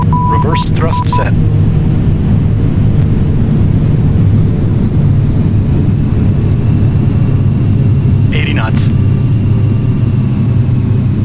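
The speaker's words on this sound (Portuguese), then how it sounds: "Reverse thrust set." A VASP Boeing 737-800 landing at Foz do Iguaçu runs its engines in reverse thrust, a loud steady low roar filling the cabin throughout, with a couple of brief chime-like tones.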